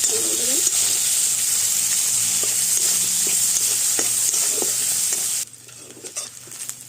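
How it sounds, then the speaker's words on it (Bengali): Onion, garlic and chillies fry in a pan while being stirred, giving a steady sizzle with scraping strokes. The sizzle drops away sharply near the end. "পেঁয়াজ রসুনটা ভাজা ভাজা হয়ে গেছে"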